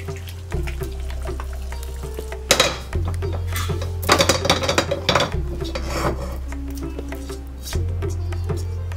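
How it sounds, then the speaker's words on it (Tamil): Jaggery syrup is strained through a sieve, giving close, rasping scrapes and rubs in uneven bursts over a constant low hum. "இப்போது நான் வந்து இந்த வெள்ளைப்பாகை வந்து ஒரு வடிகட்டியில் வடிகட்டிக்கிறேன்"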